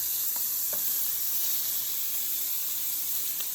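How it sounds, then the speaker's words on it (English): A loud, steady high sizzle of chicken wings searing in a lightly oiled hot pan, continuous throughout with a few faint pops. "We're not frying the wings, we're kind of searing them."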